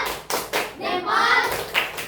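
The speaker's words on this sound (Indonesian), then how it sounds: "Kasih tepuk salut" Short group salute clap from a class of students in a school setting, a few sharp claps in quick succession, close and moderately loud.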